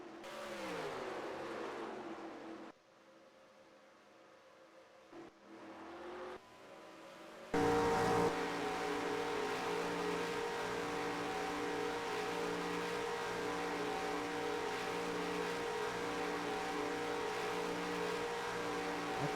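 Race car engines from the NASCAR Racing 2003 video game drone and rev in a simulated pit stop stretch, a quieter muffled passage giving way to a sustained, louder steady engine roar.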